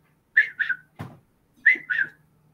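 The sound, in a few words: person imitating Bigfoot's up-down whistle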